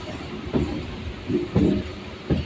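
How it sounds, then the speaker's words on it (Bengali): A Howrah to Belur Math local train rolls slowly through green countryside, with a steady rumble broken by rhythmic low thumping bursts of wheels on rail joints. No speech is heard. "আমাদের ট্রেন প্রাকৃতিক পরিবেশের মধ্যে দিয়ে ধীরে ধীরে এগিয়ে চলেছে"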